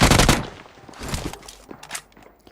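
A UMP fires in PUBG on the Livik map, opening with a loud, close burst of rapid automatic fire. Fainter, scattered shots and impacts trail off afterward.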